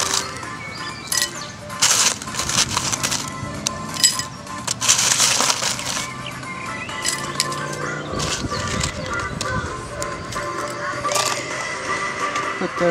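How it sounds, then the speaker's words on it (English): Ice goes into a glass of mashed lime and sugar for a caipirinha, making sharp clinks, cracks and crunching rattles in bursts near the mic, with a voice speaking briefly. "Put the ice inside the glass."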